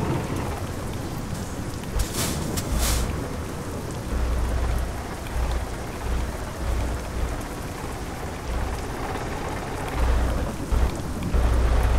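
Steady rain hisses in Euro Truck Simulator 2 while trailers are being parked, with repeated low thunder rumbles rolling in at intervals beneath the constant downpour.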